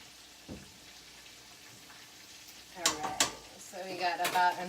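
Oyster mushrooms frying in a pan with a light sizzle, then clanks and scrapes of a utensil against the pan as they are flipped, the frying growing louder toward the end.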